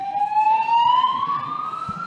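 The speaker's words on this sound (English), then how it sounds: "The source of the alarm signal that you have heard is being investigated." A building fire alarm signal sounds as a steady, slowly rising electronic tone, continuous and moderately loud, with no one talking over it.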